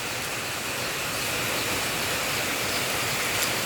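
Steady, dense hiss of rain pouring down, loud and continuous without pause.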